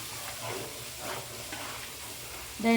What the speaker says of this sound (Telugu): అది కూడా ఆయిల్లోనే వేపుకోవాలి